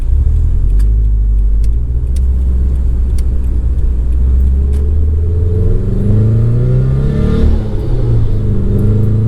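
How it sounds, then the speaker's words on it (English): A deep, throaty boxer engine rumble through a GReddy Supreme exhaust, loud and close, with the exhaust note rising as the engine revs and pulls through first gear. "in first gear, you really hear that rumble"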